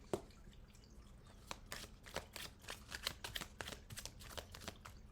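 A tarot card deck is shuffled and cut by hand, a string of crisp riffling flutters and soft slaps repeating close up, with no talk over them.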